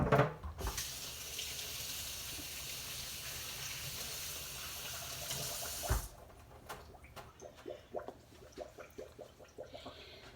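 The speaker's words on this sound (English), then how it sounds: "I want to rinse my hands." A kitchen tap runs in a steady loud stream for several seconds while hands are rinsed, then shuts off, followed by quiet drips and small handling sounds.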